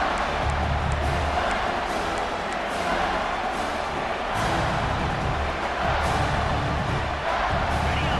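A video game stadium crowd at a college football match, Georgia Bulldogs in a late goal-line stand, roars in a constant, dense wash of noise that swells slightly, with commentary voices under it.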